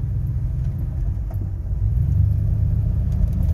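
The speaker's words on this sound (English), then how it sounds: "I think that's an exhaust leak starting." A 1999 Ford F-150 engine idles with a suspected exhaust leak starting, a steady low rumble close by that swells slightly partway through, with no talking over it.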